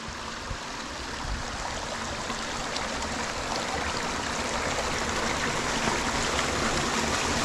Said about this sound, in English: Lots of cascades all along this canyon.